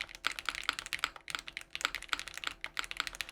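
Mechanical keyboard being typed on at an even, quick pace, each crisp keystroke clicking close and distinct, with no voices over it.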